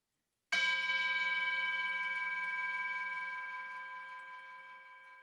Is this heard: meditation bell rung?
yes